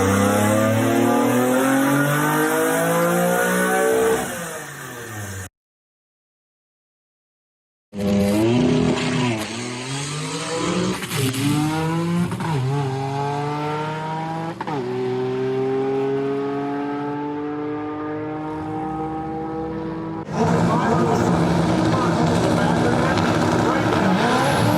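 A Honda Insight race car at a Florida raceway, its engine revving up and down in repeated rising and falling sweeps with tire squeal, loud and close, broken by a brief silent gap before the engine returns.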